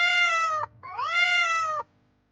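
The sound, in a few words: cat meowing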